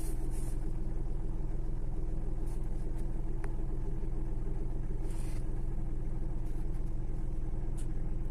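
A car's engine, one with a worn engine mount, starting and running, giving a steady low rumble and drone with little variation, close by and alone without talk.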